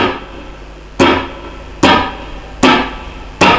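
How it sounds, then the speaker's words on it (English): Four sharp percussive palm-muted chop strums on an acoustic guitar, evenly spaced about a second apart, each a dry scratchy burst that decays quickly over a faint background. "Okay, so that's the chop, that's how it works."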